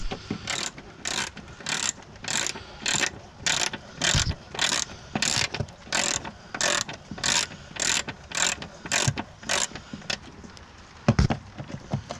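A hand ratchet tightens bolts on a Volvo XC70 D5, giving a long run of rapid, even clicking bursts in steady strokes, close and fairly loud, with a heavier clunk near the end.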